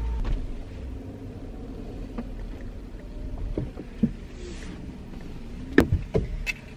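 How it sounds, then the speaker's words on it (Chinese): A car's low engine rumble drones steadily from inside the cabin, broken near the end by a few sharp clicks and knocks. Nobody speaks. "好，我们现在开车走吧"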